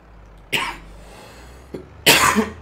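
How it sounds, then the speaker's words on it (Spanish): A person coughs in two separate bursts, a short harsh cough followed after a pause by a longer, heavier one, close and loud against a quiet background. "la puta tos de los cojones me tiene hasta la punta del rabo, os lo juro"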